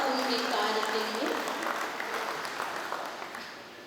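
An audience claps at a Dr Baba Saheb Ambedkar 133rd anniversary event, a fairly loud wash of applause that gradually fades, with tonal voice or music traces mixed in at the start.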